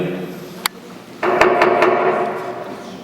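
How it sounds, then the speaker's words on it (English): A hammer striking, heard as a few sharp, close knocks, one alone and then several quick blows in an uneven rhythm over a steady background hum. "That's a hammer."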